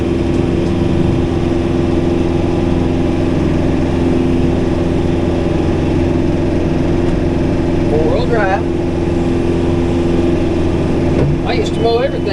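A tractor engine with a brush hog runs steadily nearby, a constant low drone that fills the whole clip, while someone speaks briefly over it.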